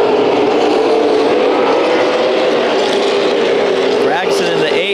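Late model stock cars race at the Bullring, a steady loud roar of several engines blending together throughout, with a commentator talking over the noise.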